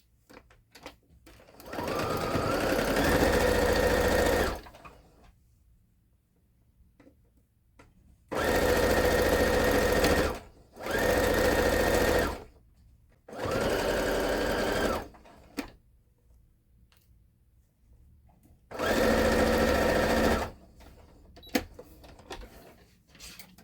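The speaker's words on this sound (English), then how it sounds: "we're going to go ahead and sew 1/4 of an inch over all the way down" A sewing machine stitches a pleated ruffle onto a flour sack tea towel in five steady whirring runs of a few seconds each, separated by quiet pauses, close and clear.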